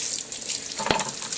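Water runs from a sink tap in a steady hiss and splash as it soaks a thick nylon leash, with a brief thump partway through.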